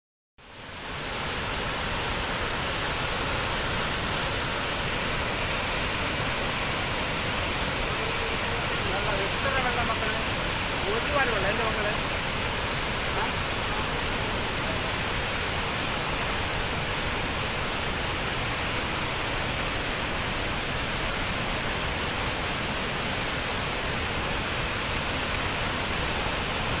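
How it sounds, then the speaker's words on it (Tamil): Thirparappu waterfall in Kumari pours down in heavy rain, a steady, dense roar of rushing water filling the whole scene without pause, with faint voices mixed in underneath. "அந்த ஃபால்ஸில் தண்ணி அடிக்குது பாருங்க அப்படி."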